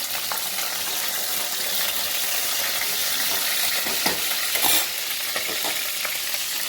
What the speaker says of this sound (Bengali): ক্যাপসিকামটাকে একটু ভেজে নিই।